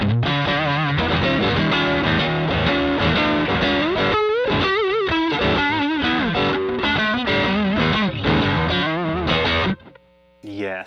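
Distorted electric guitar, a modded Squier Stratocaster, plays bluesy licks with bends and quick runs, loud and continuous, ending with a brief pause and a final phrase.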